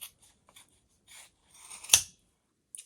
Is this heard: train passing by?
no